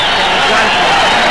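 A boxing crowd keeps up a loud, continuous ovation at the end of a round, dense cheering and applause, with a commentator's voice riding over the roar.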